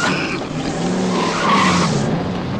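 A car accelerates to overtake another on a road in Montjavoult, a loud close engine and tyre rush that swells briefly mid-way, with no talk.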